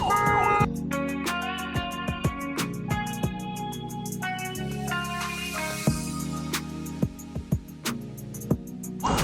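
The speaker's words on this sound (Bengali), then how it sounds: "ওই অ্যাম্বুলেন্সে একেবারে কান ঝালাপালা করে ফেলতেছে" An ambulance siren on a road blares loud and sustained, its steady tones shifting in stepped alternation, with sharp knocks and clatters breaking through now and then.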